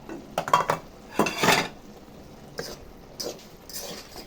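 Eggs stirred in a pan make irregular clattering utensil scrapes and taps in a few short bursts, with a faint sizzle between them.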